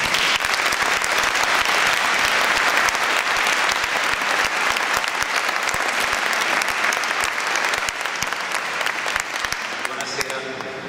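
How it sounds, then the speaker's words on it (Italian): A church audience applauds at a choir's Christmas nativity concert: dense, steady clapping fills the room for the whole stretch and thins slightly toward the end. "Grazie e ancora un applauso a tutti."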